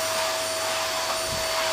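A vacuum cleaner runs steadily nearby, a loud whining drone with a fixed tonal hum that holds constant throughout, and no speech over it.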